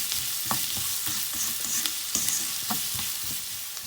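Onions with salt fry in a pan for a village-style fish curry, a close, hissing sizzle broken by rhythmic spatula scrapes and stirring knocks every half second or so, without speech.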